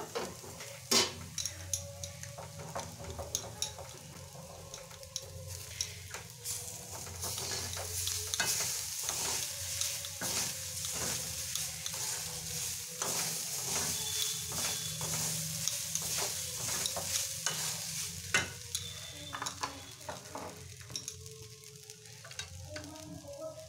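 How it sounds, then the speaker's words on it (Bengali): Potatoes and beans fry in a pan with a continuous sizzle, punctuated by frequent clinks and scrapes of a spatula stirring them. "আলু আর বিনসটা ভাজা ভাজা হয়ে আসছে।"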